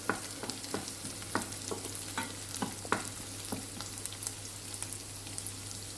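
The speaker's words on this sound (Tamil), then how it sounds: "ஒரு 2 நிமிஷம் பக்கம் நல்லா வதக்கி விட்டுக்கோங்க" Small onions sauté in oil in a pan for a shark fish curry, a soft continuous sizzle broken by frequent scraping stirs of a spoon, quiet and close with no voices.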